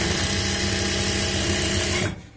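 A sewing machine stitching palazzo fabric runs in one loud, continuous whir at close range, then cuts off abruptly near the end.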